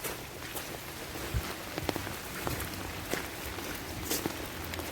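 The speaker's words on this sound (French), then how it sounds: "on n'en peut plus de la pluie" Heavy rain pours steadily on a hiker walking the GR 65 pilgrimage trail, a dense, close wash of drops with scattered sharper patters and faint thuds, and no voices.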